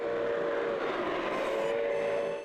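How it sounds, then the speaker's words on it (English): Model train running on a garden railway holiday display layout, a continuous steady whirring hum with faint tonal whistle-like overtones, alone and fairly loud. "You've got the motion of the train and all the little detailed features in the layout."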